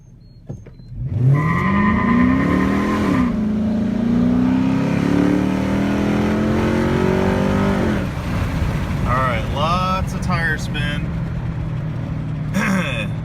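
A 2009 Dodge Charger R/T launches from 0 to 60 with spinning tires, its engine revving loudly and rising in pitch through the gears, with short bursts of tire squeal near the end, heard close from inside the car.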